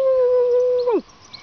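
A human voice imitates a dog howl, holding one long steady tone that bends sharply downward at the end and breaks off, loud and close, followed by quiet.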